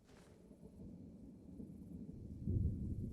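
A game thunderstorm rumbles low and steady beneath fog, a continuous dull roar that swells louder toward the end with a heavier roll of thunder.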